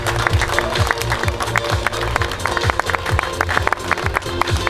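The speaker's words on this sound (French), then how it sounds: "applaudissements" Applause for the overall women's and men's podium at the Jura Vouglans half triathlon prize ceremony, steady crowd clapping under music with a thumping beat.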